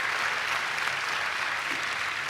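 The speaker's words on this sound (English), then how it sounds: "That deserves an applause, y'all." Applause from a large audience at the 2025 MLB awards ceremony, a steady dense wash of clapping that holds evenly throughout, moderately loud and heard on its own.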